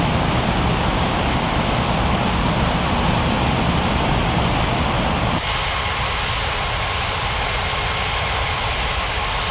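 A steady, loud roar of an airplane taking off in an air traffic control video game fills the whole stretch, a continuous broadband engine rush with a slight shift in tone partway through and no talk.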